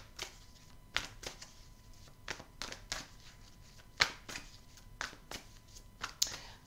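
Belline oracle cards being shuffled by hand in a quiet room, a series of soft papery riffles and slaps repeating roughly every half second, fairly faint and close, with no talking.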